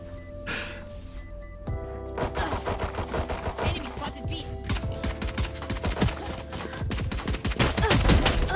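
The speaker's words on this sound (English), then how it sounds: "I'm shooting right at him and the shots didn't land" Rapid bursts of gunfire from a video game shooter crackle in dense, irregular volleys, building louder toward the end, with tonal game effects beneath.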